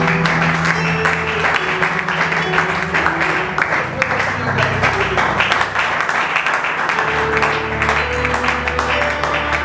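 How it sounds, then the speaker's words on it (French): Congregation at a French-speaking church youth gathering applauds and cheers, a dense continuous wash of clapping with crowd noise and music underneath, steady and loud throughout. "Est-ce qu'on peut acclamer d'abord pour Dieu?"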